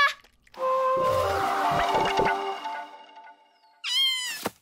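Cartoon cat meows loudly and drawn out, a long wavering yowl followed by a brief pause and a second sharp, rising meow, close and alone with no talking.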